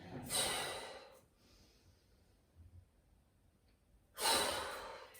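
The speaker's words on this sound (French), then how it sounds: "évacuez toute l'énergie négative avec chaque expire" Two strong, close exhalations during a yoga flow, each a breathy rush lasting about a second, separated by a quiet pause with faint movement.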